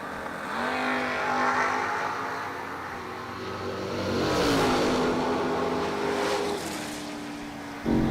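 Two drag race cars staging at the track, engines idling and creeping forward with rising and falling revs, a steady loud mechanical drone with harmonic tones shifting in pitch and a sharp burst near the end.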